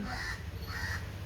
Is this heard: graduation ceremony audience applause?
no